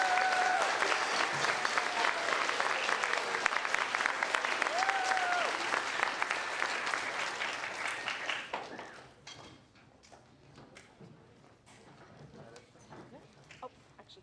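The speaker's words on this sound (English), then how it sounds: "Please give the sixth graders a big round of applause." Audience applause at an elementary school sixth grade moving up ceremony, a dense indoor clapping that holds for about eight seconds and then fades to scattered claps and room murmur.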